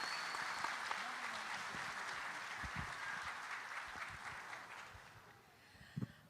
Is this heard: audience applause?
yes